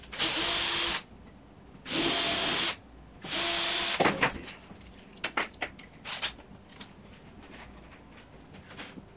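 A power drill bores pilot holes for screws in plywood, three loud steady whirring bursts of about a second each, followed by light clicks and handling knocks.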